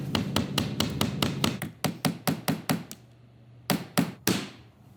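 Hammer blows drive nails into wooden trim on a van's Murphy bed frame inside a Ford Transit conversion, a quick run of about a dozen sharp, close knocks, then a pause and three final strikes.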